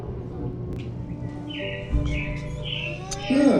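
Animatronic robins in Walt Disney World's Carousel of Progress show chirp in bright, short tweets over a background hum, with a few brief voices nearby.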